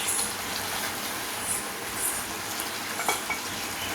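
Chicken gravy bubbles and fries in a pan while it is stirred, a dense close sizzle with a few light scrapes and clinks of the spoon against the pan, and no talk.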